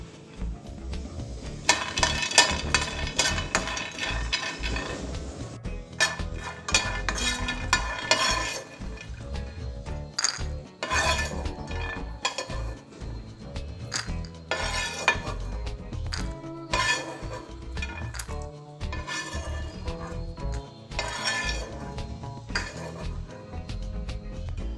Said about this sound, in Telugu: స్టవ్ మీద ప్యాన్ పెట్టి పల్లీలు వేయించుకోవాలి.